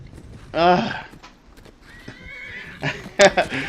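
A horse in the video game Skyrim whinnies loudly during a fight, followed by hoof clops and combat thuds, with a player talking over it.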